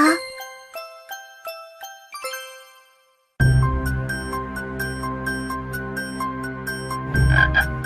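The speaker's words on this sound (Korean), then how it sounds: "두꺼비 한 마리가 들어왔어요. 꾸룩꾸룩." A toad croaks in a children's fairy-tale scene. Repeated croaks sit over a soft music and chime bed, following a quieter opening of tinkling chimes.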